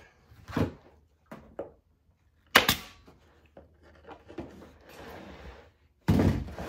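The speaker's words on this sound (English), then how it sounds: "I'm just going to staple it." A staple gun fires into fabric on a cornice valance, giving several sharp separate snaps and thunks spread out at irregular intervals, close, with quiet handling noise between them.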